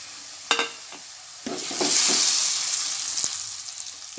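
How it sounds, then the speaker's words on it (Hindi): Spices dropped into golden fried onions for a Konkani crab masala hiss into a loud, steady sizzle, with a few clinks and stirring scrapes at the start before the frying swells and holds. "अब मैं इसमें सब मसाले डालूँगी।"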